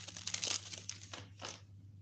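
Tarot cards are riffled and shuffled up close, with crisp papery bursts and softer rustles in between.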